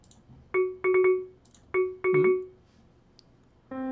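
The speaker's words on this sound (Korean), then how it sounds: "벨소리는 저쪽 골목길에서 울렸는데?" Phone ringtone in a Minecraft horror story, ringing from an alley: clean electronic beeps in quick bursts of two or three, repeated twice, then a sustained tone begins at the end.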